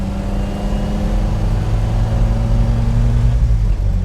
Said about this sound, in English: First, a nice stick to second. That's only part throttle. Third gear.